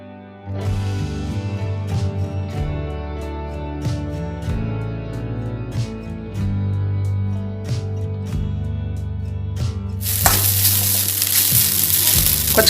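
Dry red chilies, green chilies and curry leaves crackle in hot oil, then rice for jeera rice is tipped in and stirred, with repeated spatula taps against the pan over a steady sizzle and a loud hissing burst near the end.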